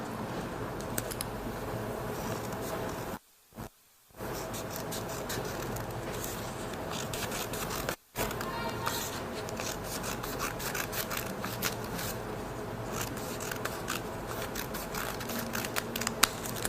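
Scissors snip through a folded paper triangle in a steady run of close, crisp cutting and rustling sounds, broken by two short pauses.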